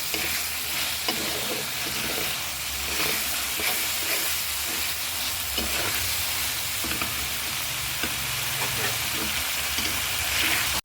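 Onion paste fries with spices in a pan for a fish curry, a steady loud sizzle with repeated scraping and stirring strokes throughout.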